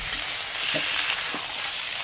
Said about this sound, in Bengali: টমেটোটা দিয়ে